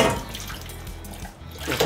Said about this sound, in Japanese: 水の出が良すぎて。